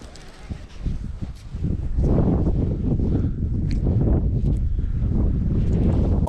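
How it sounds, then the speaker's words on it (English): Strong wind buffets the microphone outdoors on a trout fishing trip, a steady low roar that rises and stays loud and close throughout. "but it's too windy."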